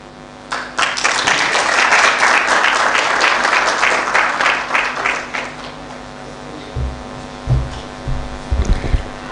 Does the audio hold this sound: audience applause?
yes